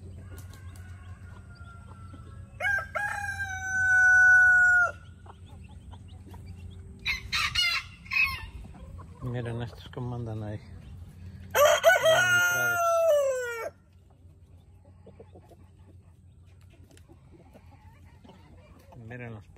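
Silkie hens with their chicks foraging for scattered feed, loud bursts of clucking and squawking calls near the microphone, separated by quieter stretches with faint peeping, while someone speaks briefly.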